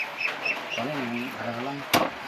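A duck quacks a few times in a nasal, repeated call, close by, with voices and background noise around it.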